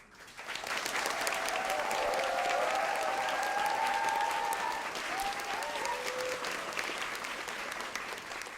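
A studio audience at a Korean lecture show applauds steadily, clapping building quickly and holding as one sustained, even wash of claps.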